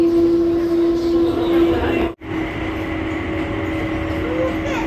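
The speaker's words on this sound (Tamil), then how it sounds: "என் செக்கிங் பேக்கேஜ் எடுக்கிறதுக்கு இப்போ வந்து இந்த ட்ரெயினில் தான் நான் போகணும்." An airport shuttle train in Dubai running to baggage claim gives a steady rolling rumble with a high tonal whine, briefly cut by a sharp dropout, while a voice speaks over it.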